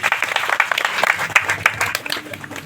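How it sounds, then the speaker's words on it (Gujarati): A crowd at a village bhajan satsang in Bhatsar claps together in a short burst of dense, uneven hand claps that rise and fall for a couple of seconds. "એક વખત તાળીઓથી વધાવી લો એમને."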